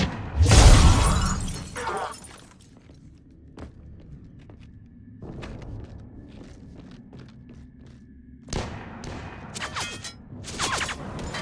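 Gunfire and shattering impacts from the video game Mass Effect 3, a loud burst of breaking and shots at the start, then scattered sharp cracks and thuds with footsteps, ending in another dense volley.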